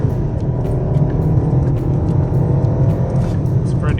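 A Volkswagen Passat 1.8 with a stock turbo pulls hard under acceleration, its engine a steady low rumble and drone heard from inside the car for a few seconds.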